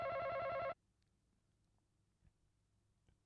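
A telephone bell rings in a loud, rapid trill for under a second, then cuts off abruptly, leaving near silence with faint room noise.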